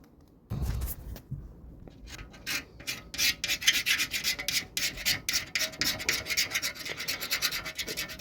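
A blade scrapes hardened paint off a Honda CD 175 motorcycle part in a steady run of short rasping strokes, close and fairly quiet, with no talking.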